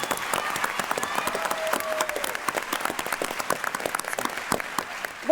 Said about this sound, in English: Yeah, you can applaud. Please do.